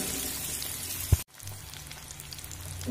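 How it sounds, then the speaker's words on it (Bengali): Chopped garlic frying in oil over a medium flame, a steady soft sizzle and crackle close by, with one sharp pop and a brief dropout before the hiss resumes. "তো রসুনটা আমি মিডিয়াম ফ্লেম করে 1 মিনিট মতো ভেজে নেব।"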